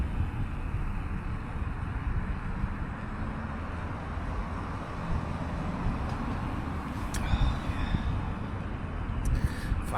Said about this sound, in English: Big gust of wind's just come over, nearly took my pan out